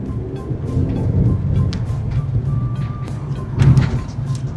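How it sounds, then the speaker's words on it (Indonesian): Suzuki SUV, a Grand Vitara or Fronx, pulling hard at full throttle with a steady broadband engine and road roar, surging louder near the end, plus occasional faint cabin clicks. "Sekarang saatnya kita cobain tarikan kencang."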